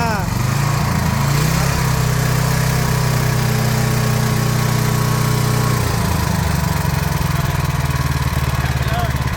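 A new small multipurpose petrol engine runs loudly and steadily, revving up then settling, its drone filling the whole stretch without pause.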